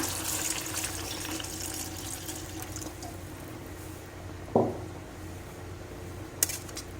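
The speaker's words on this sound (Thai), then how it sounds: "หลังจากนั้นเขาก็จะใส่น้ำลงไปนะคะเนาะ" Water pours steadily into a cooking pot of Thai chicken curry (kaeng om kai) loaded with vegetables, a continuous watery rush with two brief sharp knocks near the end.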